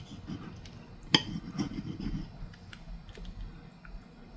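Knife cutting a small piece of meatloaf from a stuffed pepper dish, giving one sharp clink against a plate followed by soft scraping and a few faint taps, close and quiet, with no talking.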